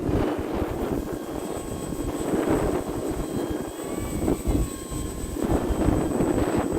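Steady drone of a Husky Ultimate light plane's engine at a quarter to half throttle in a flight simulator game, continuous and fairly loud, with a faint high whine riding above it.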